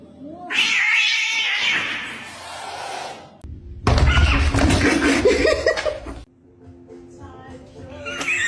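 Several cats let out loud, drawn-out meows and caterwauls with a few thumps, while voices and some laughter are heard around the yowling.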